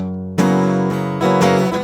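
A short electric guitar riff of sustained, ringing notes, with a couple of chord changes, played alone and close.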